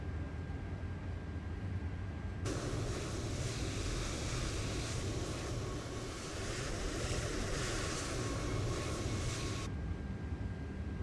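Airbus A320 engines running in the MSFS flight simulator, a broad steady roar with a hissing high layer that sits over a low rumble for most of the clip, fairly faint and without speech.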